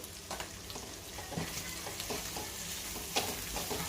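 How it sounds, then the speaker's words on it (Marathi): A masala with Kashmiri chilli stir-fried over a low flame in a pan for a Khandeshi mutton dish, giving a continuous soft sizzle with scattered scraping taps from stirring. "मसाला परतून घेऊया छान।"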